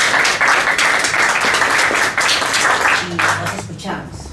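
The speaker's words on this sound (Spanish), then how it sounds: "un fuerte aplauso para Charles" Audience applause for a guest during a talk on Peru's bicentennial, a loud burst of many hands clapping that carries on for about three seconds before a voice begins speaking as the clapping fades.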